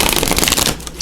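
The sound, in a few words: shuffling a deck of oracle cards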